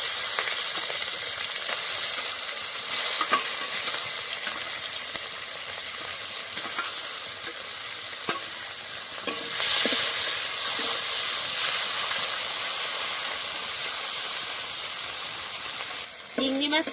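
Prawns coated in spice sizzle steadily in a hot pan for an echor-and-prawn dish, a continuous close hiss of frying with occasional clinks and stirring scrapes.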